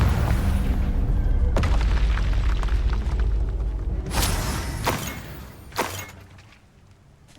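A Confringo spell bursts in Hogwarts Legacy as a heavy, rumbling boom with shattering debris. Several sharper cracks and impacts follow over the next few seconds, and the roar gradually dies away.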